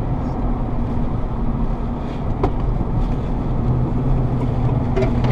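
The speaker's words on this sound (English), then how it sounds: "Want to see a Ford Ranger jump over some railroad tracks?" A 2007 Ford Ranger FX4 Level II pickup truck drives fast along a back road toward railroad tracks, giving a steady, loud engine and road rumble with wind buffeting and a couple of brief knocks.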